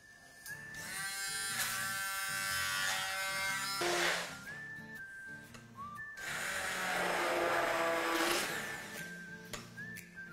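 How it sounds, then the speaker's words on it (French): An immersion blender or countertop blender whirs steadily while mixing watermelon for a basil granita, a loud motor drone with pitch shifts as the load changes and short pauses between bursts. "vous prenez un mixeur plongeant ou un blender, comme vous voulez, en fonction de ce que vous avez chez vous, et vous passez à l'option mixage"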